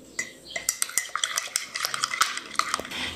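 A spoon scooping milk into a cup of coffee, with a quick run of bright, close clinks and scrapes of metal against the cup, irregular and crisp, with no talking.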